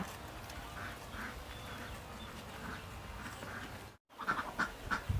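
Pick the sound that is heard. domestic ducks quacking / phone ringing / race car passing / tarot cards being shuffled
domestic ducks quacking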